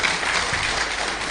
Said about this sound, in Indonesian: Ini tepuk tangan untuk Polres Lamando ini.